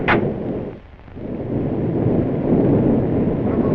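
Thunder from a lightning storm rolls as a deep, continuous rumble that dips briefly and then swells again, loud and close, with no voices.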